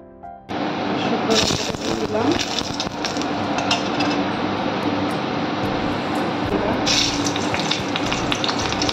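Oil sizzling loudly in a hot wok while cooking mango dal, a steady dense crackle starting abruptly after a brief pause and continuing throughout, with faint background voices.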